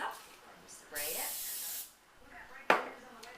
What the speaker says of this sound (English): As this pan heats up, spray it.